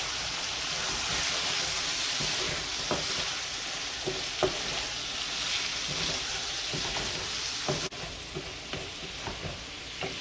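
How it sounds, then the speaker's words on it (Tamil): Chicken masala with coriander powder is stirred in a hot pan, giving a steady close sizzle of frying with scattered scraping clicks from the spoon, and no voices. "மல்லித்தூள் போட்டேன். இதெல்லாம் போட்டு நம்ம கிண்டி வச்சுருங்க."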